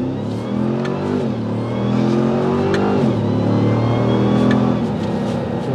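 A 2021 Ram TRX Mammoth 900 pickup truck at full throttle on a highway, its loud engine revving up through rising gear pulls with brief shift dips, heard continuously from inside.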